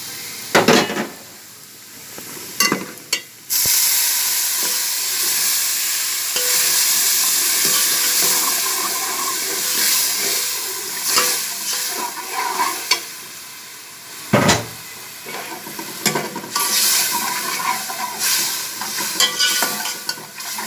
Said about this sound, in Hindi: अब इसने घी छोड़ना शुरू कर दिया, मसाला हमारा भुन चुका है।